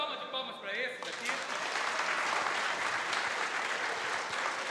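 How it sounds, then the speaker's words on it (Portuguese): A church congregation breaks into sustained, dense applause after a short stretch of speech, the clapping swelling and holding steady to the end. "Uma salva de palmas para esses aqui."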